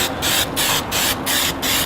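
3M No. 20 contact spray adhesive sprayed onto trunk insulation material for a 2012-2014 Ford Focus, heard as five short, even hissing bursts with brief pauses between them, close and fairly loud.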